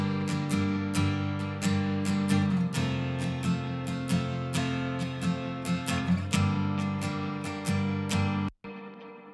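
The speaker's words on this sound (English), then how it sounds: "So I've got a tape echo going into an amp simulator," Electric guitar played through a tape echo into an amp simulator and grain delays, sustained chords with repeating plucked notes smearing into a quirky, spring-like reverb wash, steady and alone before cutting off abruptly near the end.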